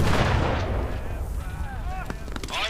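A German Stielhandgranate stick grenade detonates in the VR war game Medal of Honor, a heavy, booming blast that opens loud and rumbles away, followed by a voice speaking.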